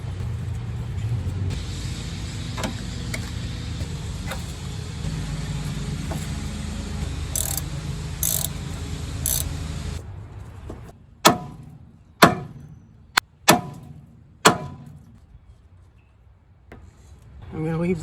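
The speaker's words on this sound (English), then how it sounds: "We're going to take the steering arm off of the pitman arm." Tools work at the steering linkage of a 1998 Jeep Wrangler TJ, pulling the steering arm off the pitman arm: a steady rumbling hum first, then several sharp, close metallic strikes spaced about a second apart.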